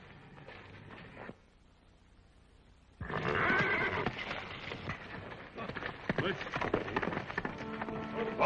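Horse sounds with hoofbeats and a whinny burst in suddenly after a quiet stretch, loud and busy, with voices mixed in.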